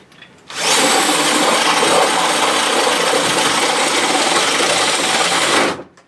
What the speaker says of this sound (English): Drill the holes that side, I can turn it over.